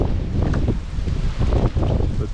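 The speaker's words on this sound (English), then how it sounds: "this wind is pretty strong" Strong wind blowing across the microphone at a roadside campsite near Fort Nelson, a steady loud rumbling roar with gusty surges throughout.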